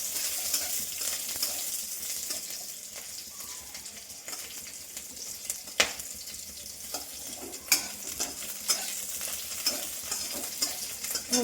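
Crushed garlic and chili fry in a pan with a steady, bright sizzle, punctuated by sharp clicks and clacks of stirring close by.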